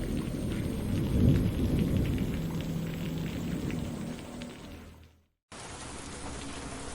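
Steady, dense rain patters on a surface, with a low rumble beneath it; the sound cuts out briefly near the end, then resumes.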